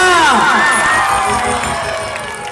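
A crowd cheers, claps and shouts loudly, with high whoops rising over the din before it gradually fades a little.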